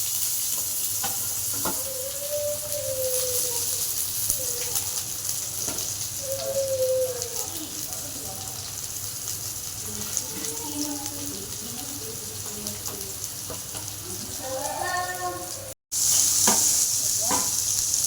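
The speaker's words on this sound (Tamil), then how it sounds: "தாளிப்புக்கு சில பட்டை கிராம்பு அதை கொஞ்சம் தாளிச்சுக்கலாம்" Cinnamon and cloves sizzle steadily in hot oil for tempering, a continuous close frying hiss with soft stirring scrapes, broken by a brief cut before a louder burst of sizzling near the end.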